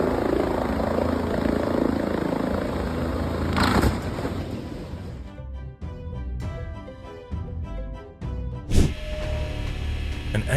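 A loud helicopter engine and rotor drone, steady and close, with a few sharp bursts and rattles over the continuous roar.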